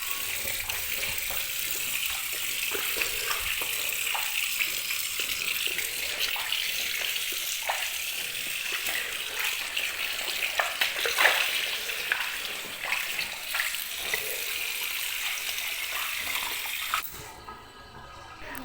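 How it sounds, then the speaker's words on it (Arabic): Water draining out of a washed blanket into a sink or basin, a steady close gushing and trickling flow that continues before dropping off near the end. "شايفين المية نازلة نظيفة ازاي؟"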